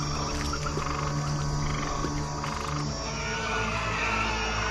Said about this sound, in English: The stinking blood waters suddenly produced millions of frogs.